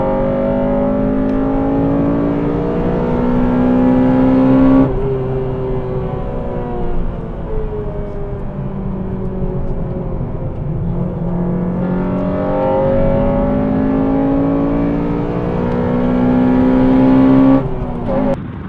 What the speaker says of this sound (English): the Swift revs really high